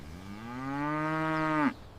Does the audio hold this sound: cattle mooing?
yes